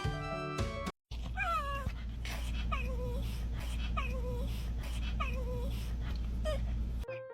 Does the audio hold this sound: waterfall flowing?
no